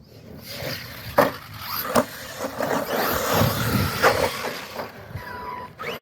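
An Arrma Kraton 4S or 6S RC car bashing over bumpy ground, not at full throttle, with a continuous mid-distance motor whine and scattered knocks and thuds from the suspension soaking up impacts, fairly loud throughout.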